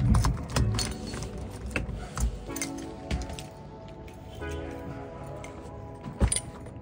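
A bunch of keys jangles and clinks, with a few sharp metallic rattles at the start, scattered softer chinks through the middle and a last bright jangle near the end.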